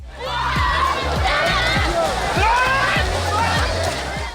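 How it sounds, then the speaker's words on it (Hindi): Children shout and splash in a swimming pool on a hot holiday, with busy sloshing water and excited yelling from a lively crowd, loud and continuous throughout. "बच्चों ने भी खूब हल्ला गुल्ला किया और पानी में गौते लगाते रहे।"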